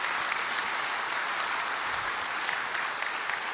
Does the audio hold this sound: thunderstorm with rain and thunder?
no